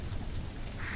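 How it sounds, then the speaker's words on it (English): Rain patters on a steel roof as a dense, even wash of tapping that holds steady for a brief moment with no voices. "Only rain tapping on the steel roof."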